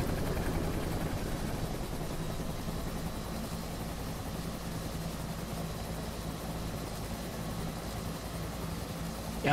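Helicopter rotor and turbine drone in the DCS World flight simulator during a low descent toward an emergency landing, a continuous low engine rumble with a soft whine, steady throughout with no talking.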